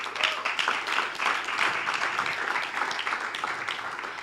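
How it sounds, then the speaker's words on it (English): An audience at an investor summit livestream applauds partners and partnerships, dense clapping from a room of people that runs the whole few seconds at a fairly strong, even level. "So a round of applause to having partners and partnerships"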